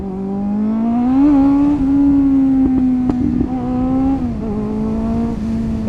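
A motorcycle hums steadily through Belgrade Waterfront, its engine tone holding close and loud with slight rises and dips in pitch as the throttle shifts.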